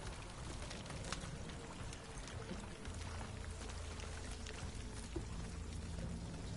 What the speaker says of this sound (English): We're just going to create a water leak.